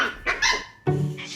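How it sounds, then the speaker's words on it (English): A small dog gives a few sharp, high yips and barks in quick succession, close by, during a vet health check. "She's barking at my feet."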